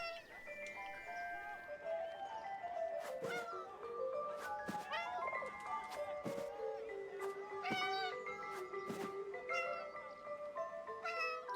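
A cat meows several times in the World War I video game 11-11: Memories Retold, the short rising and falling cries repeating over a steady bed of game music with sharp clicks.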